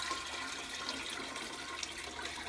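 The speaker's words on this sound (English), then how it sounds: "I'm going to go ahead and add it to the fermentation bucket" Cooled beer wort pours steadily into a fermentation bucket already holding water, a continuous soft splashing gush at a moderate distance with no voices.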